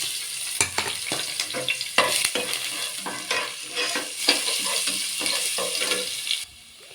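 Bay leaf, cloves and whole spices frying in hot oil for chicken biryani, a close sizzle with repeated stirring scrapes and light pan knocks, cut off abruptly at the end.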